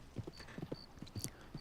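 Horse hooves clip-clop in Red Dead Redemption 2 in an irregular run of soft thuds spread across less than two seconds, moderately close, with faint tonal game sounds above and no talking.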